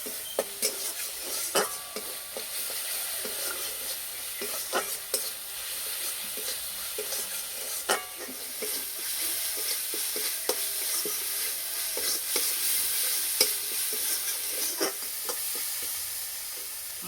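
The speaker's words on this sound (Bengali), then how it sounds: "হলুদ গুঁড়ো, অল্প একটু চিনি, মশলা ভালো করে কষিয়ে নেব।" Spices with turmeric powder and a little sugar stir-fried in a pan for a vegetarian papad curry, giving a steady close sizzle broken by frequent sharp scrapes and clicks of a spatula against the pan, with no talking.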